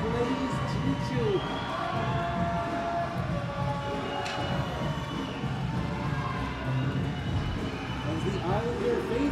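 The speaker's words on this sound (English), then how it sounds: "Islander faithful here cheering hard for their squad" Junior hockey fans of the Cross Lake Islanders cheer and shout in an arena, a steady, dense crowd roar that keeps up throughout, with voices mixed into the din.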